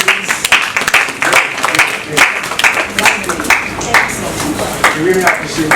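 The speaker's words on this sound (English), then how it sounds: "Another round of applause, please." An audience applauds at the end of a presentation on project teamwork, dense rhythmic clapping that stays loud throughout with scattered voices mixed in.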